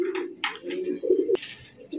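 Pigeons in a loft coo in low, repeated throaty calls, with a quick flutter or rustle partway through. The birds sound close and there is no speech.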